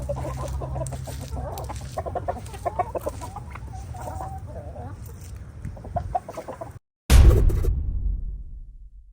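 Leghorn chickens clucking and squawking in a yard, a busy flock of overlapping calls at moderate distance for several seconds, then a brief silence followed by a louder close rustle or bump.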